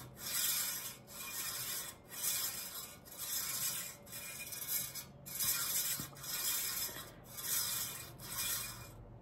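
An abrasive wire camping saw is pulled back and forth by its rings in an even rhythm, making a gritty, rasping hiss on every stroke, about nine strokes, fairly quiet and close.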